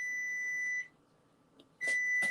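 A kitchen timer beeps in a home kitchen during cooking: a steady, loud electronic tone for almost a second, a pause, then two more short beeps close to the mic, with no talking.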